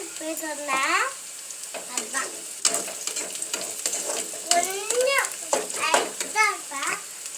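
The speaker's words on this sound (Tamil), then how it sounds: "இங்கே வரைக்கும் இந்த மாதிரி நல்லா வதக்கணும்" Brinjal and potato for a spicy curry sautéing in a pan, with steady sizzling and stirring scrapes throughout while children chatter nearby.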